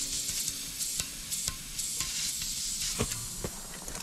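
Air leak on an air compressor gives a steady broadband hiss, fairly faint and close, with scattered small clicks and knocks over it and no talk.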